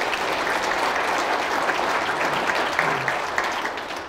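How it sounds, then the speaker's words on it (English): An audience at an evening event applauds steadily throughout, a dense patter of many hands clapping that fades slightly at the end. "Please give Judy a round of applause for all the work that"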